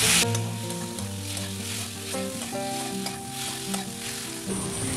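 Ridge gourd stirred and fried in a pan, a steady close sizzle with repeated scraping strokes of a spatula running throughout, no talking.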